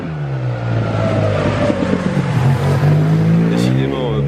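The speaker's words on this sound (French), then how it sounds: "Décidément, beaucoup de circulation." Road traffic passes on a busy city street, a steady close rumble of car engines with some revving, and someone speaks over it.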